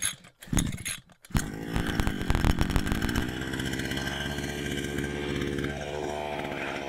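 A petrol grass trimmer engine coughs through a few short pulls and sputters, then catches and runs steadily at a buzzing mid-pitched idle, close and fairly loud, with no talking.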